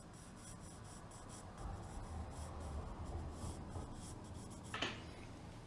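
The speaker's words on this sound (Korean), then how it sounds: "일단 그림자를 한번 칠해 볼게요." A pencil shades a shadow on a drawing of a sphere and cube, giving a soft, steady scratchy rubbing at close range with one brief sharper scrape near the end.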